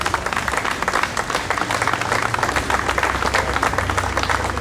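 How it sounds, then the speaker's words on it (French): An audience applauds a cyclist who has just completed a year-long Tour de France by bike, the clapping dense and steady throughout with a low hum underneath. "Donc je vous demande aussi de l'applaudir."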